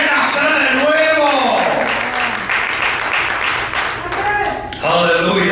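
Church congregation clapping to praise the Lord during a sermon, steady loud applause throughout, mixed with shouting voices and a preacher speaking over it.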